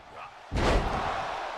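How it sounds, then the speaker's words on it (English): A wrestler is slammed to the mat in WWE 2K23 during a Royal Rumble match, a single sudden heavy thud followed by sustained crowd roar. "Eric Cartman gets slammed."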